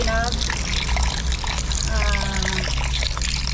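Water poured over freshly boiled beef skin in a basin to cool and rinse it, a continuous splashing trickle that runs the whole time with faint tonal clinks over it.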